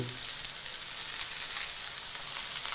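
Steady crackling sizzle of fish frying in hot oil, close and continuous, with no voices.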